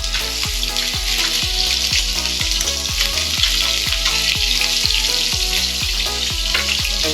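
Spam slices frying in a pan produce a steady hissing sizzle, partly buried under loud rhythmic music with a regular beat throughout.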